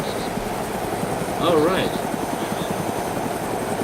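A helicopter engine idles with a steady, low droning whir in the video game ArmA 2 DayZ mod, heard continuously under a brief spoken remark.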